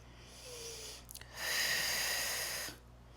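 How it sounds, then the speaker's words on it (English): Deep breathing during a Pilates wall workout: a brief sniffing inhale followed by a long, breathy exhale, close and fairly loud, then quiet. "Take a few deep breaths."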